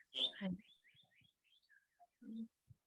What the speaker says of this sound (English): I'm hearing the beautiful birds there, Giridhari Prabhu.